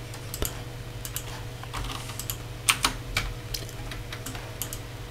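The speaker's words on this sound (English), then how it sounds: "I'm typing everything all out wrong now." Close typing on a computer keyboard: quick, irregular key clicks with a few louder strokes, over a steady low hum and no talk.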